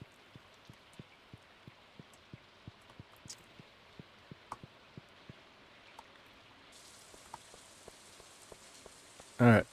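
Green rain falling in the Stardew Valley video game, a soft steady patter with regular faint drips ticking along, ending in a short louder burst of game sound.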